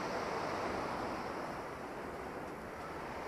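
Sea waves wash steadily onto Massandra beach in Yalta, Crimea, a continuous soft surf roar with light wind noise and no talk.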